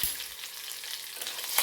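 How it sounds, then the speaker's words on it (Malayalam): Mustard seeds, two dried red chillies and curry leaves sizzle and crackle in hot oil for a tempering, with a stir at the start and end; a steady, soft frying hiss, fairly close, no talking. "2 വറ്റൽമുളക്, കുറച്ച് കറിവേപ്പില എല്ലാം കൂടി ചേർത്തിട്ട് ഒന്ന് ഇളക്കി കൊടുക്കാം."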